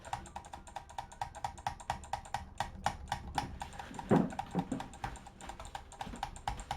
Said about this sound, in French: Je suis en train de tryhard ma souris, je sais pas si vous entendez.